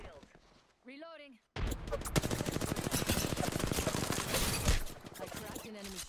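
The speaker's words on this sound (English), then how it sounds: "We do have two different teams shooting at us, though." Rapid automatic gunfire from two enemy squads in Apex Legends, dense bursts of close, loud shots rattling for several seconds, with a short voice heard just before the shooting starts.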